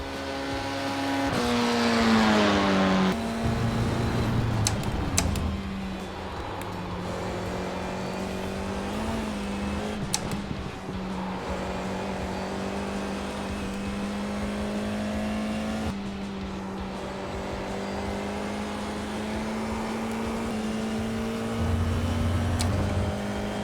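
Race car engine note from a sim racing game lap, a steady sustained drone with shifting pitch as the car accelerates and brakes through corners, continuous and fairly loud throughout with no talking.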